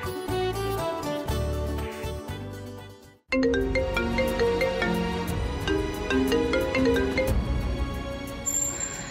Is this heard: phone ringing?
yes